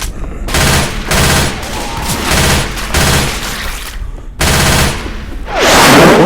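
Loud automatic gunfire in a zombie shooting video game fires in several bursts about a second apart, with a short silent gap near the end before a heavy final volley, close and without talk.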